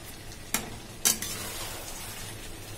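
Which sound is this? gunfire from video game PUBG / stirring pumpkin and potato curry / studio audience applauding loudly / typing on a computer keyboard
stirring pumpkin and potato curry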